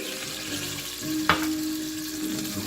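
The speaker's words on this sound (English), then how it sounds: "We'll add our beef broth." Beef broth poured into a hot pan holding seared rib eye, a sharp splash followed by a steady, loud sizzle and frying hiss that continues throughout, with no talking.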